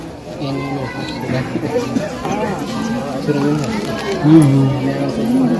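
Steady murmur of a gathered crowd chattering, with nearby voices speaking over the babble and occasional louder calls.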